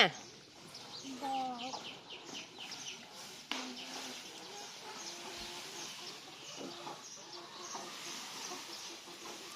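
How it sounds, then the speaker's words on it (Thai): Chickens cluck in short scattered bursts across a hissing outdoor background, fairly close but not loud, with people talking intermittently among them. "ไก่นี่ใหญ่แล้วนี่"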